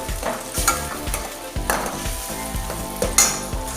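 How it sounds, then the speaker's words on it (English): Tomato puree cooking in a pan for raw banana kofta curry, with a steady sizzle broken by repeated stirring scrapes at close range, and no talking. "Now these tomatoes puree has to get cooked."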